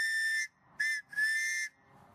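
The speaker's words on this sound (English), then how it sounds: "they send a whistle. I'm going to blow it just so you can hear it." A survival whistle, included with a knife kit alongside a Lansky sharpener, is blown lightly in three shrill bursts: a long one, a short one, then a longer one. It is close and clear with no talking.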